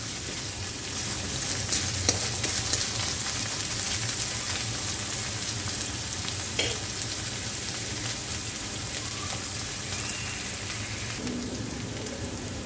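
Finely chopped onion frying in a pan for a crispy cabbage Manchurian, a soft, even sizzle that holds steady throughout like light rain, with occasional faint stirring clicks and no talking.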